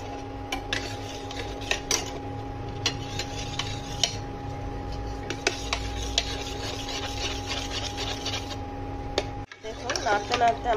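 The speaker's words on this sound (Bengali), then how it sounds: "অন করে দিয়ে আমি অনবরত এটা নাড়তে থাকবো" A spoon scraping and clinking against a pot while milk is stirred nonstop on an induction cooker, with quick repeated metallic taps and rubbing over a faint steady hum, fairly quiet.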